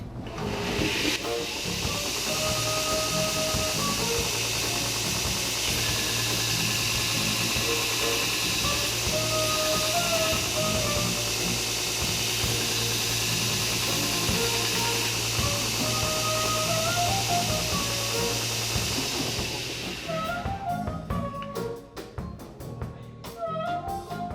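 A 2x72 belt grinder fitted with an adjustable tool rest runs with a loud, steady rushing hiss and whine for about twenty seconds, then cuts off and leaves quieter sounds in the room.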